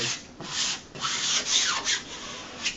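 A squeegee rubbed across a peel and stick wall mural: close, dry swishing strokes repeated in quick succession, each a soft rasping sweep, with no talk.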